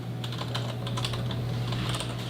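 Rapid clicking on a computer keyboard, a steady patter of keystrokes over a low electrical hum, close and moderately quiet with no speech.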